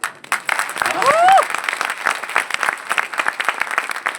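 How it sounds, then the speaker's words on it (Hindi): Seminar audience breaks into loud, sustained applause, many hands clapping densely close by, with a brief voice cry near the start rising over the clapping. "इसीलिए मैं ताली बजा रहा हूँ"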